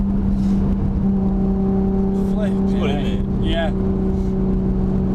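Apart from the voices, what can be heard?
Nissan Skyline GTR R33 engine revving, turbo spooling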